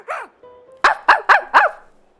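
A person imitates a dog, giving a short yelp followed by four loud, evenly spaced barks, close to the microphone in a game stream, with no other sounds.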